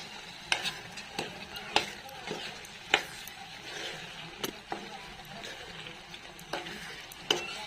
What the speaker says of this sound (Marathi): चांगलं मसाल्यात परतले गेलेत वाटाणे आपले